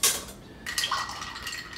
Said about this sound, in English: And then we're just going to stir the drink.